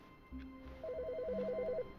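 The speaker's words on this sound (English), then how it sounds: "One of the phones are ringing." A desk telephone rings in the video game The Stanley Parable, its warbling electronic trill repeating steadily for about a second over a low ambient hum, fairly close and clear.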